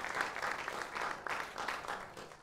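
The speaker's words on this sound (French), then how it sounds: "Moi, j'aimerais que vous applaudissiez pour le dos de l'humanité." Audience applause at a film club screening event, steady clapping from a seated crowd with bursts of louder claps, moderately close and continuous throughout without speech.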